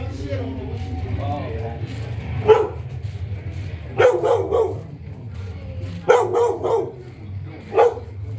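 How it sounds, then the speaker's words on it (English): A big dog barks loudly in several short bursts, close by in a street of a Colombian neighborhood, with people talking and a steady low rumble underneath. "That's a big ass dog, bro."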